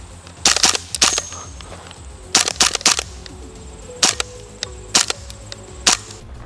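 Airsoft gun firing semi-auto at targets outdoors, sharp close cracks in small clusters of two or three spaced across the moment, each a dry snap with quiet pauses between.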